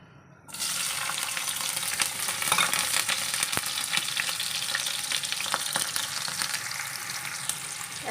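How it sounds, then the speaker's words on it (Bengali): Chopped onion dropped into lightly heated oil bursts into a loud, steady frying sizzle close by, with a few sharp crackles, while a Bangladeshi curry of ash gourd with local shrimp gets started. "তেলটাকে হালকা একটু গরম করে নিচ্ছি। তারপর এখন পেঁয়াজ কুচি দিয়ে দিব।"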